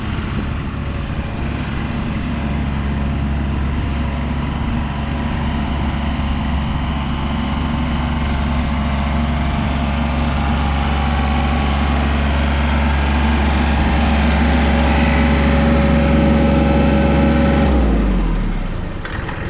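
A tractor engine runs loud and close with a steady, rumbling drone for a long stretch, then shuts off and winds down near the end.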